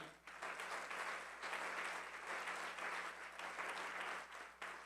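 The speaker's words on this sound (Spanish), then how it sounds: "¿Le puedes dar un fuerte aplauso al Señor Jesús?" A church congregation claps together in sustained applause for about five seconds, a steady, fairly distant wash of many hands with small swells and no talking.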